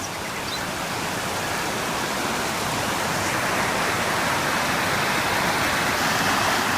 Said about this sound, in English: Right in here is this cool stream.